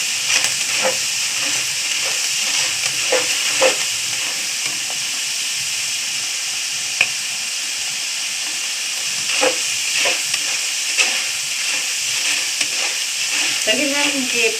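Chana dal frying in hot oil for nimko, a loud continuous bubbling sizzle with scattered scrapes and clicks as it is stirred, close and steady throughout, no speech.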